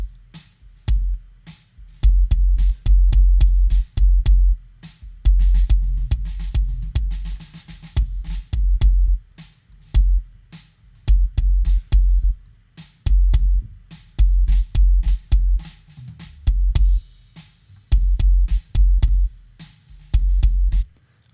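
Kick drum layered with a sidechained tone-generator sub kick, playing a steady repeating pattern of deep, booming hits with heavy low-end sustain, loud and upfront with no voices.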